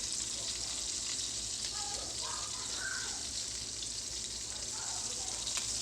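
Fish frying in hot oil, a steady close sizzle and crackle that fills the whole clip with faint intermittent spits, no talking.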